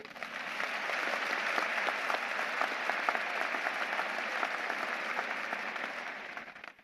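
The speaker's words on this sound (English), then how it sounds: "give yourselves a round of applause" Graduates at a Florida State University spring commencement applaud themselves, a broad, sustained roar of clapping that swells in quickly, holds steady across a large hall, then tapers off near the end.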